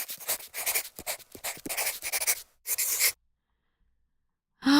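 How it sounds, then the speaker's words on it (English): Pen scratching across paper in quick strokes for about three seconds, close and clear, followed by silence and then a short voice at the end. "Let me write it down."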